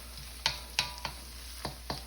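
Scallion whites sautéing at high heat in a wok, with a low steady sizzle broken by several sharp scraping clacks of the spatula as the pieces are kept constantly moving, close and fairly quiet, no voices.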